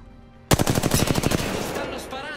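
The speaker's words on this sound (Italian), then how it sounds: "Mi stanno sparando" Rapid automatic gunfire in an online shooter game, likely Apex Legends, erupts suddenly as a loud close burst of rattling shots that then decays into echoing tails.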